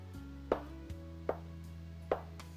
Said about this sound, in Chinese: 下成大小不均的小面剂。